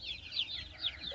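Native chickens on a Philippine farm cluck in a quick, repeated series of soft, close calls with a quiet background and no talking.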